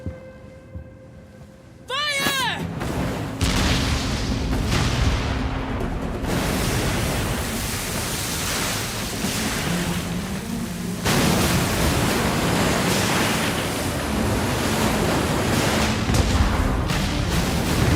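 Pirate ship cannons in the Yakuza video game fire in a heavy, continuous barrage of booming blasts and rumbling noise that swells after a brief electronic chime, with a loud, dense roar throughout.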